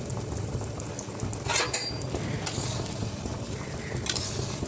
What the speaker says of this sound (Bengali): পাস্তাগুলোকে আমি 3 মিনিট অবধি ফুটিয়ে সেদ্ধ করে নেব